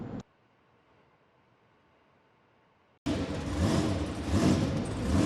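A Jester monster truck engine roars during a monster truck freestyle event in the BeamNG driving game. After about three seconds of near silence, a loud, rough, broadband engine roar kicks in abruptly and swells slightly as it runs.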